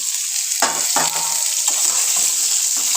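Drumstick vegetable frying in a pan, a loud continuous close sizzle with a few scraping stirs of the spatula breaking through, no voices.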